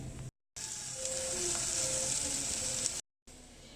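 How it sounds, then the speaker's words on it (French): Mustard and fenugreek seeds crackle in hot oil for a Sri Lankan fried fish curry, a steady bright sizzle broken by two brief silent gaps. "En fait, on doit entendre le crépitement de nos épices."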